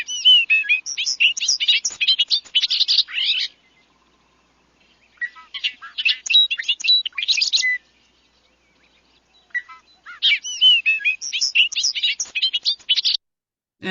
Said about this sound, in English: the bobolink with those little R2-D2 noises